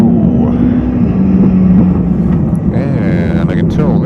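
A Kawasaki ZX-14R motorcycle accelerating on a highway, its steady loud engine roar and rising pitch heard from the rider's position amid heavy wind rush, with no speech.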